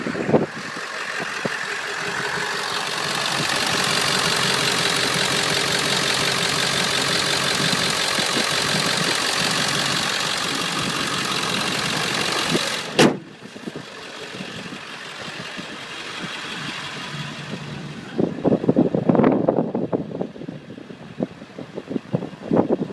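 A 2000 Ford F250 Power Stroke diesel in a 4x4 regular-cab pickup cranks and fires, settling into a loud, steady clattering idle. Near the end the engine cuts and brief handling noises follow.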